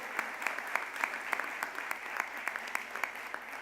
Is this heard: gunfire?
no